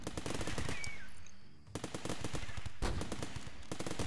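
Rapid bursts of automatic gunfire from the video game Rimworld, Alpha 8, rattle loudly in dense volleys, pausing briefly before resuming in fast repeated shots.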